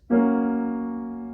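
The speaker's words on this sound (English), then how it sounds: "when you play a major chord" A single sustained chord rings out cleanly with a sharp attack, rich in overtones, slowly decaying over about a second.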